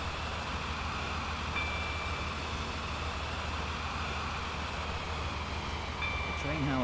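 An express HST train in the SCR game runs with a steady, loud rumble and rushing noise that fills the whole scene, with a faint brief tone appearing twice.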